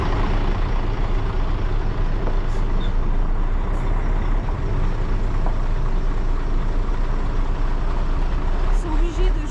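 Trucks moving through a garage, a steady loud heavy engine rumble with a hiss of air brakes, echoing in an enclosed space, with people talking over it.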